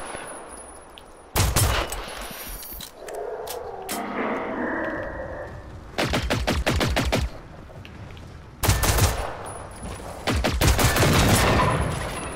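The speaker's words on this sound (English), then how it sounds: "Alright, shoot him." Gunfire in the video game Generation Zero, with rapid automatic bursts and single sharp shots cracking in loud clusters over a steady background hum of game ambience.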